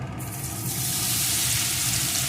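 Crushed garlic hits hot oil with bay leaves and whole garam masala for chicken kosha, bursting into a loud, dense, hissing sizzle that swells within the first second and holds steady, close and unbroken.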